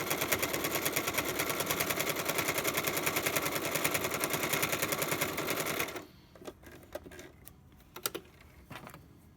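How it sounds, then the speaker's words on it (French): A sewing machine runs in a steady, rapid stitching rhythm while sewing a washable cotton face mask, loud and continuous for about six seconds before stopping, followed by a few faint handling clicks. "on continue pour finir le dernier trait de couture"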